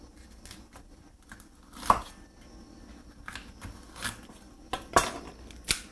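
A knife cuts the stem out of a halved fennel bulb on a cutting board, giving several sharp, irregular clicks and taps over low kitchen background noise, with no talking.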